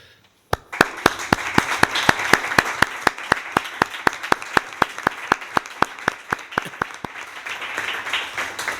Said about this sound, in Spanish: nuestro reconocimiento y nuestro aplauso para él